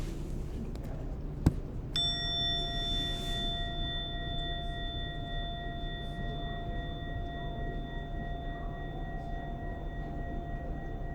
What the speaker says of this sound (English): in a moment, you will hear a bell or a chime. Listen to it as it gets quieter and quieter.